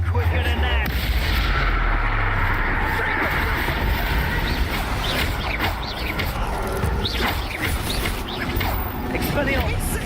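Explosive Confringo and Bombarda spell blasts from the video game Hogwarts Legacy, a dense run of booming, crackling impacts layered over continuous game music and effects, with voices speaking between the casts.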